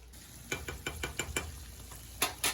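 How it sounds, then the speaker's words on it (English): Spicy garlic chicken frying in a pan, a steady low sizzle broken by a run of sharp stirring or tapping hits, about eight in quick succession, with two more louder clatters near the end; no talking. "we're gonna cook each side till it gets nice and golden brown"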